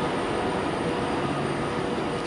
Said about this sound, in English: the train we arrived on is finally leaving.